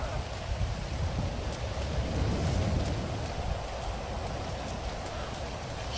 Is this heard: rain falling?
yes